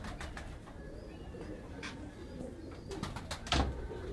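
Pigeons cooing at a tournament loft where flocks of eight birds are flown and timed; soft repeated coos sit under a steady outdoor bird murmur, with a louder burst near the end.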